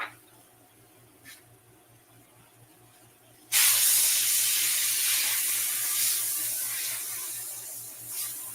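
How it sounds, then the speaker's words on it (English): After a few quiet seconds with a faint low hum, an air hose bursts into a loud, close, steady hiss, blowing debris off an engraved brick, then slowly tapers slightly. "I'm going to brush this one off and hit it with an air hose"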